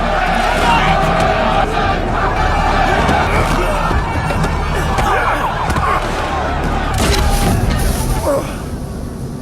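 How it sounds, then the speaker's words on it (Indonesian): A film's crowd brawl between police and rioting residents: a dense, loud roar of shouting voices and scuffling continues throughout, easing toward the end. "hingga terjadilah keributan yang cukup serius"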